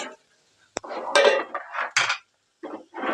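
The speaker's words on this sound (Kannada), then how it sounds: "ನೋಡಿ ಗೊಜ್ಜು ಹಾಕಿ ಚೆನ್ನಾಗಿ ಮಿಕ್ಸ್ ಮಾಡಿ" Puliyogare gojju paste mixed in a pan with a metal spoon, a few short scraping and clinking strokes separated by brief pauses, close and clear.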